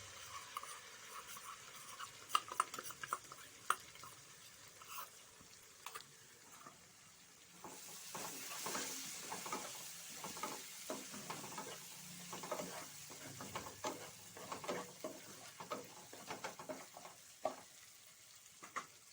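Home-style chilli chicken sizzles in a pan as mixed sauces are stirred in; a quieter frying hiss builds into a louder, steady sizzle punctuated by repeated scraping stir strokes.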